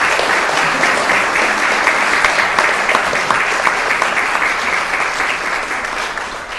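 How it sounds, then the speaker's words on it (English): Loud, continuous applause fills a city council chamber, many hands clapping densely and evenly throughout with no speech over it. "I just wanted you to give them a big round of applause on behalf of all of us"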